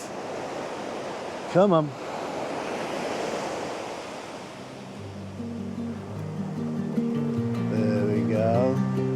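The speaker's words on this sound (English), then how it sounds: "So, there's a bigger wave." Ocean waves surge and wash over a shoreline at dawn in a steady broadband rush, with a bigger wave swelling toward the end; a brief bird-like chirp and a low drone sit in the mix, and a person speaks briefly.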